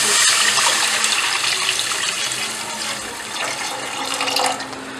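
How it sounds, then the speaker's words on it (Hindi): Two glasses of water poured into a pan while making green chili sauce, a loud steady splashing stream filling the pan close by and easing off toward the end. "अब हम लेंगे एक तेजका और उसमें मैं डाल दूँगी 2 गिलास पानी।"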